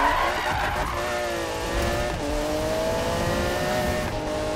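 A car in the Need for Speed video game drifts at speed, its tires squealing in a long, wavering skid over a continuous roaring engine. The sound is loud and unbroken throughout.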